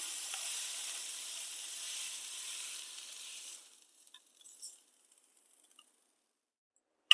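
Fenugreek leaves sauté in a pan with a soft, steady sizzle that fades out after a few seconds into near silence, ending in a brief faint knock.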